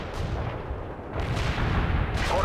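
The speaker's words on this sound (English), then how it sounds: "Commencing the barrage." Artillery barrage in the World in Conflict video game, with deep rumbling booms rolling one after another into a continuous heavy roar that grows louder toward the end.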